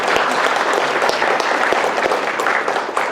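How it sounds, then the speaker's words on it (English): An audience at a Native American Studies 50th anniversary event applauds students, dense steady clapping that fills the room without a break. "I just want to give them a round of applause."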